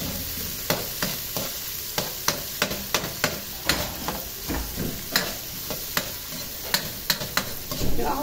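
Pork already fried being sautéed with rinsed bagoong in a pan for pork binagoongan, a steady sizzle broken by repeated sharp clanks and scrapes of a spoon against the pan, close and alone.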